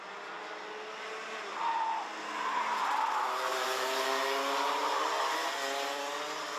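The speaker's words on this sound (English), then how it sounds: "Leaders making their way through into turn 7 and turn 8 for the final time in this junior second chance heat." Junior Rotax karts at a Genk Euro Trophy second chance heat whine through corners, several high engine notes rising and falling as they pass at moderate distance with no talk.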